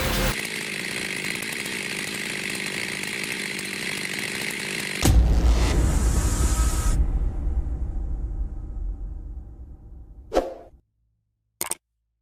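A big, powerful chainsaw cuts a tree. The engine roars loud and steady, shifts to a heavier tone as the blade bites in, then winds down and stops, followed by a couple of sharp knocks.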